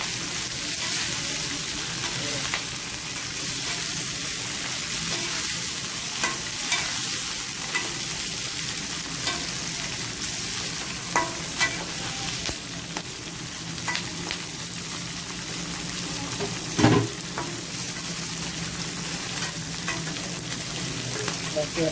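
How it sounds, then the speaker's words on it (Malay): Chili peppers fry and get stirred in hot oil for sambal belacan, a dense, steady sizzle with crackles and occasional scraping of the spatula throughout, no talk. "Lepas tu kita goreng cabai"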